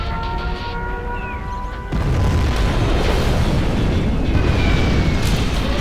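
A nuclear missile detonates in Command & Conquer Generals with a sudden deep, loud blast that swells into a sustained rumbling roar, following steady battle ambience.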